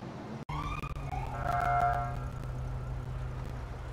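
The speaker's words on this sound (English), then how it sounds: "Alright guys, so I'm hearing sirens." Wailing police sirens in a video game rise and fall at moderate distance, with a short horn-like blare midway, over a steady low hum; no one speaks.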